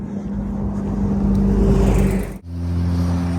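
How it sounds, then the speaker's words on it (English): Road traffic on a roadside near Helmsdale and Dunbeath in the far north of Scotland, a vehicle's rushing whoosh swelling loud and close before cutting off abruptly, followed by a steadier engine hum. "suddenly this absolute deluge of traffic"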